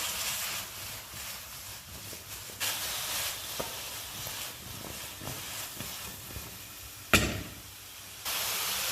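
Broccoli romanesco florets stew in a pan with a continuous hiss of steam and sizzle, shifting in level with a few soft knocks and a brief louder burst near the end.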